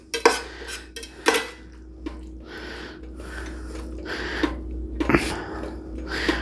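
Ground beef and potatoes scraped and stirred in a pan to coat them, with irregular metallic clinks of a utensil against the pan, a few sharp knocks among softer scraping sounds, close and moderately loud.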